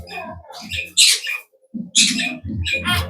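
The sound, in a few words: myna birds calling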